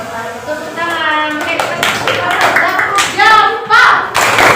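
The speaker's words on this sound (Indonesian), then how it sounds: "Tepuk tangan." A small group claps briefly in a classroom-style coaching session, irregular close hand claps mixed with overlapping voices talking.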